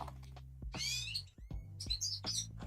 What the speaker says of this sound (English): one bird is very happy. So happy, in fact, it's so loud.